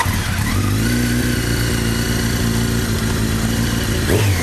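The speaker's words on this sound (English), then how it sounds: "start the bike up. He's going to work on keeping that front brake locked and giving it gas at the same time" A motorcycle engine revs hard and steadily during a burnout with the front brake held, a loud, close, sustained droning roar with a slight pitch rise and dip near the end.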